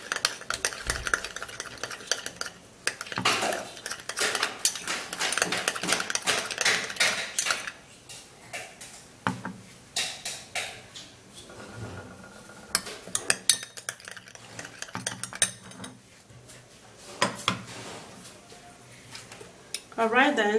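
Ingredients for a homemade skin mixture are stirred in a bowl, giving irregular close clinks and scraping taps of a utensil against the sides over about twenty seconds, with speech in places.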